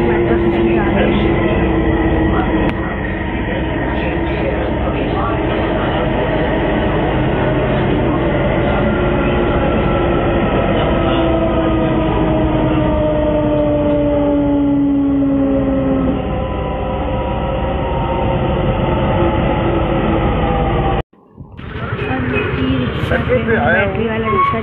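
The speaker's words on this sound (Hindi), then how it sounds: "अंडरग्राउंड मेट्रो स्टेशन जा रही है।" An underground metro train running, with a loud continuous rumble and rising-and-falling whine from the motors that holds for about twenty seconds. It ends with an abrupt cut, then returns briefly.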